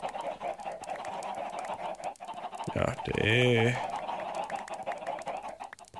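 Chickens on a chicken farm in the modded video game Minecraft FTB give a short run of clucks, loud and close, over someone speaking Swedish throughout.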